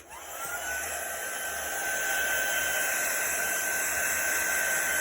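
A hair dryer blows steadily and loudly with a constant whine and airy hiss, running continuously throughout without pause.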